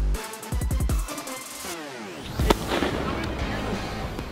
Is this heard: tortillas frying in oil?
no